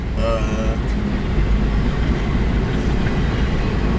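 A freight train rumbles past close by on the Needles Sub, a loud continuous roar with wheel noise, a horn-like tone near the start and people talking over it.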